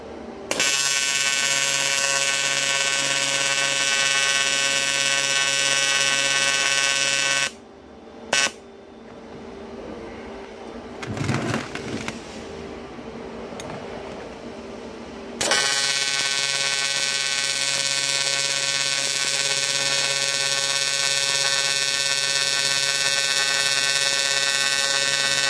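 TIG welding on a Q45 flange for a VQ35 build gives a loud, steady electrical buzz with strong hum, cut off by a stretch of quieter scraping and clatter before the continuous buzz resumes for a long run.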